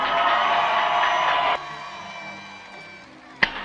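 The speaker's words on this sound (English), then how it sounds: "give one last round of applause for your class of" Crowd cheering and applause for the West Craven High class of 2019 at a graduation ceremony, loud and dense for the first second and a half, then dropping to a quieter murmur with a single sharp shout near the end.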